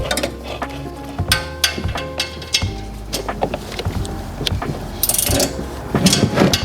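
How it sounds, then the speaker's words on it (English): Ratchet clicking in bursts while header bolts are tightened on an LS-swapped Monte Carlo SS, with metallic tool knocks and clanks among the rapid pawl clicks, close and fairly loud. "now I gotta tighten up this one"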